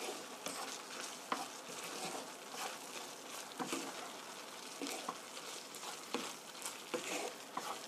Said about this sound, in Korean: 소스가 면 속으로 들어가게 1분 정도만 이렇게 볶아주세요